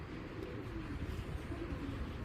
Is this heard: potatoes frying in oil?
no